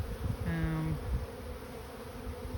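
Honeybees from a caught swarm colony buzz close and continuously at the hive, a dense, steady drone with a few louder passes of individual bees.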